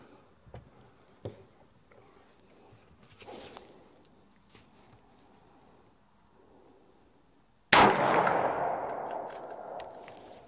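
At an outdoor shooting range, a bullet strikes a steel target with a single loud, sharp impact followed by a long, fading metallic ring, after several seconds of quiet shuffling and small clicks.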